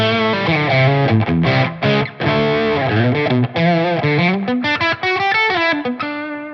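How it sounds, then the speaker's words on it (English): Heavily distorted electric guitar from a 1954 Custom Shop Telecaster run through a TONEX amp model, playing dense sustained chords and riffs with brief gaps, loud and close, with no talking. "let's try it with my 54 Custom Shop Telly"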